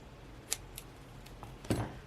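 Scissors make a couple of quick, quiet snips through washi tape at close range, with a slightly louder cut near the end.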